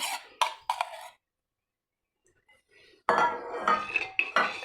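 A spoon knocks and clinks against a bowl as curd is stirred into half a litre of milk to set it. Quick metallic rattles come in two bursts separated by a near-silent pause.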